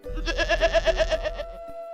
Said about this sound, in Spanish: las cabras